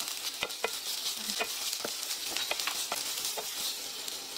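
Carrot and onion sautéed in a little oil, giving a soft continuous sizzle broken by light, quick utensil clicks and stirring taps against the pan, close but fairly quiet.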